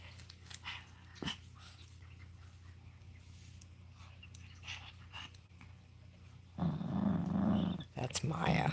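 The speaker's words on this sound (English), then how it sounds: "Listen to his little growls." A small Chihuahua growls softly in playful bursts, low and close, with a person talking over it and a louder scuffle of rough growling near the end.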